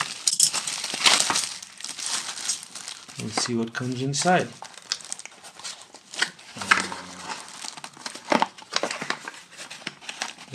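Plastic bag around a Barton Musical Circuits switched resistor VCF synthesizer kit being pulled open, with bursts of close crinkling and rustling between stretches of someone talking.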